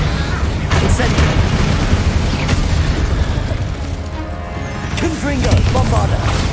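A fiery Incendio spell bursts in Hogwarts Legacy, a loud, dense roar of flame and impact that fills the whole stretch, with layered game effects swelling and easing but never dropping away.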